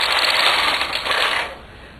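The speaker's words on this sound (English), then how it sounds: "when I knit across, the machine will pick them up and knit them" Knitting machine carriage with a ribber drawn across a row during short rowing, a steady broad mechanical whirring swish that holds for about a second and a half, then eases off, close and alone.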